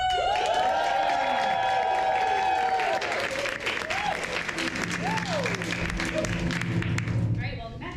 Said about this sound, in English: let's practice our cheer one more time when we bring him back.